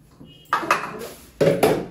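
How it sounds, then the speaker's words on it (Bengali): Freshly washed metal utensils and dishes picked up and set down, two pairs of quick clanking knocks close by, with quiet pauses between them. "এই বাসন টাসনগুলো এগুলো সব ধুয়ে মেজে রেখে গেছিলাম, এগুলো তুলি"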